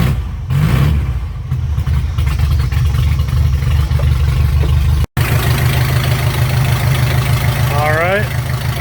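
A Chevy Luv 4x4 engine idles steadily just after firing up, with a low, even rumble that runs throughout, broken by one brief dropout and a few faint higher noises late on.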